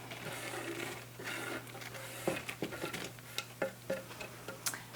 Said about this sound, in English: Add our chopped onion